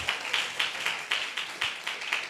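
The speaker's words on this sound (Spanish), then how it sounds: "démosle un aplauso al Señor" Church congregation applauding at a service, a steady rhythmic clap of about nine even beats, moderately loud and roomy, with no talk over it.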